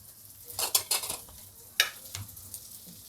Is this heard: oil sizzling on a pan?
yes